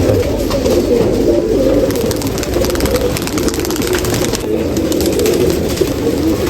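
Racing pigeons coo in a low, steady rumble over a constant noisy background, the soft calls running continuously without pause.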